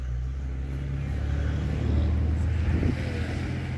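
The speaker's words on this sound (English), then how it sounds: "Yeah, that truck was loud." A loud truck rumbles past nearby in a city park, its low engine roar swelling and fading over a few seconds.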